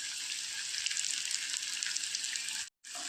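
Ripe jackfruit pieces frying in hot oil make a constant close sizzle and crackle. The sound holds steady, cuts out briefly near the end, then resumes. No one speaks.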